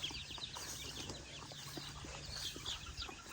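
Chickens on a farm cluck and chatter softly at a distance, scattered calls over a quiet outdoor background with a low hum, and no talking.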